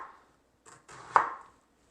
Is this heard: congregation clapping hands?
no